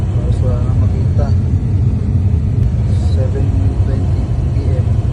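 A car drives through a snowstorm on a long highway trip toward Edmonton, with a steady low road rumble and engine drone running unbroken and close inside the cabin.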